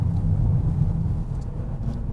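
A Hyundai Elantra N Line's engine drones at around 3000 rpm while driving on a mountain road, a low, steady rumble heard from inside the cabin with no talk.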